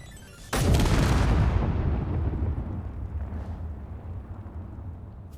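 A massive video game explosion bursts in suddenly with a sharp crack, then a heavy rumbling roar that slowly fades into a lingering low tail.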